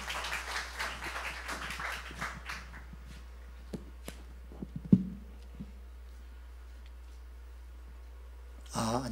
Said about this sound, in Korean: 우리 박수로 환영해 주십시오.